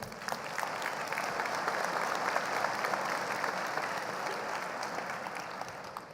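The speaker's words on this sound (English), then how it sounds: "let's have a round of applause for our technicians" An audience at a security conference talk applauds the technicians, a dense, sustained clapping that stays fairly even for several seconds before tapering slightly.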